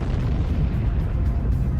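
A supernova stellar explosion sound effect: a loud, sustained low rumbling roar with heavy bass, continuous and dense for about two seconds without any voices.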